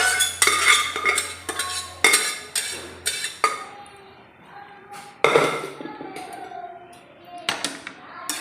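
Cooked pork for pork varattiyathu is tipped into a pan and stirred, with a run of sharp metallic spoon clinks and scrapes against the pan, loud and close, easing into softer stirring.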